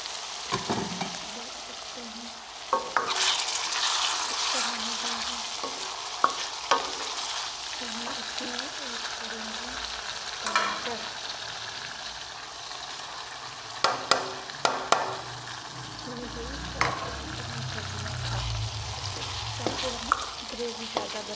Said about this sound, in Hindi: मैंने इसको अच्छे से मिक्स कर लिया।